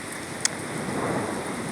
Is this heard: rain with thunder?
yes